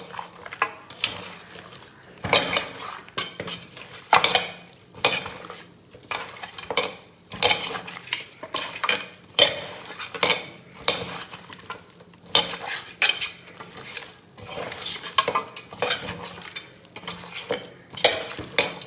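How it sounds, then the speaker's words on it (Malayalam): Beef bones are kneaded by hand with turmeric powder and salt for a Kerala-style curry, producing wet, squelchy squishes in an irregular rhythm, close and fairly quiet, with occasional clinks of the pot. "നന്നായി കൈ കൊണ്ട് തന്നെ ഇത് നന്നായി നമുക്കിത് കുഴച്ചെടുക്കാം"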